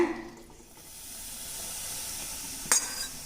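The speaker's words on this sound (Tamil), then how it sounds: "இப்போ நான் மீதி இருக்க நெய்யும் ஆயிலும் இதில் சேர்த்துறேங்க" Ghee and oil stirred into a Mysore pak mixture in a pan give a broad hiss that builds steadily and then carries a sharp bright crackle near the end, close and alone.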